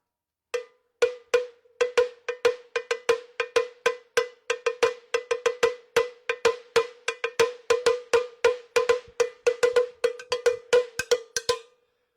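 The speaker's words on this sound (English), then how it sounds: "This cowbell, used cowbell with some tape on it." A used cowbell wrapped with tape is struck in a steady, fairly even rhythm, dozens of sharp metallic clanks in a row, close and clear with no voices.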